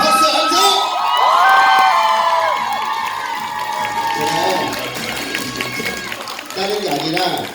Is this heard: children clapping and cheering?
yes